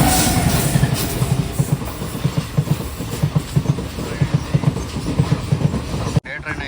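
Regular clacking of wheels over rail joints from a passing train at a level crossing, a steady repeating rhythm of paired knocks over a rumbling wash, ending in a sudden cut.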